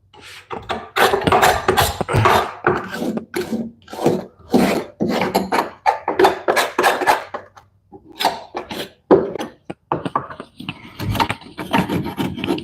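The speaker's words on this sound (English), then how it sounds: "Anywhere you can't really hit with sandpaper, you can gently scrape the flat edge" Repeated rasping scrapes of a flat edge drawn across wood, steady strokes in a continuous rhythm, close and fairly loud with no talking.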